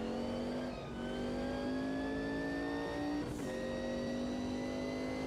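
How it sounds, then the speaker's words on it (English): Race car in the sim racing game Automobilista 2 on an oval track, with a steady, rising engine drone and a brief scraping disturbance partway through, no talk. "You can hear it scraping here on the oval."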